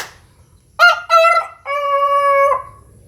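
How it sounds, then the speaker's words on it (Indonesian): A rooster crows once, nearby and loud, its call broken into two short opening notes and a long held final note, against a quiet background. "Ini sekali lagi ya, yang berkokok ya"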